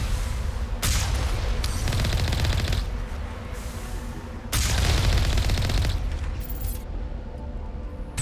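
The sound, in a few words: turret gunfire in video game Mass Effect 1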